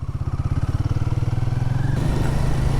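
A Royal Enfield Guerrilla 450 motorcycle ridden two-up with a pillion passenger on a highway tour out of Delhi, its engine thumping steadily and loudly up close, the pulsing note smoothing out as it pulls harder.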